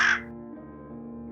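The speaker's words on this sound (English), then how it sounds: "A ragged, black bird perched on the fence, watching me. Its beak opened, and it cawed again." A single ragged black crow caws once from a fence. The call is short and harsh, and a steady, sustained tonal drone continues underneath it.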